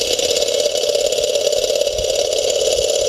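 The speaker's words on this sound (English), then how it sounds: "the heat amount that's required for running this engine without combustion" A small model Stirling engine heated by concentrated sunlight, with no combustion, runs with a steady mechanical hum and a faint rhythmic whir, close and continuous with no talking.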